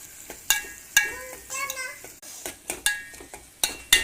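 A spoon stirs ingredients in a cooking pan for a drumstick thokku curry, giving a series of sharp metallic clinks and scrapes at an uneven rhythm, with a brief voice heard in the middle.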